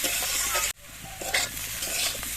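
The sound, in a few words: stir-frying kohlrabi with chilli paste in a pan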